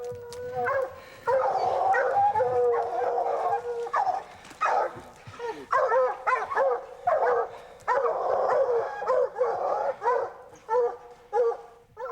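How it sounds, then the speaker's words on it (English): Hunting hounds baying at a treed bear in the woods, a chorus of repeated barks and drawn-out howls in irregular bursts, moderately distant, with brief human voices in between. "We just kept following the music of the hounds"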